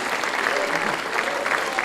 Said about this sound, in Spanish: Que alguien eterna. aplauda más fuerte para Él